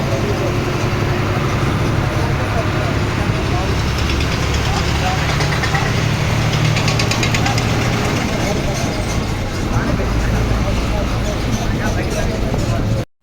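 A Pamba-bound bus engine runs with a continuous loud rumble and drone, steady throughout and heard from close by, cutting off abruptly at the end.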